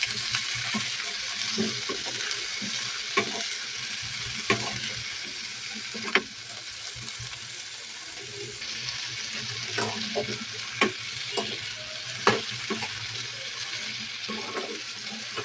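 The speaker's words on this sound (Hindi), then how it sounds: "इसको अच्छे से फ्राई कर लिया गोभी और आलू को।" Cauliflower and potato pieces fry with cumin and asafoetida for aloo gobi, giving a continuous close sizzle broken by repeated scrapes and clacks of a spoon stirring in the pan.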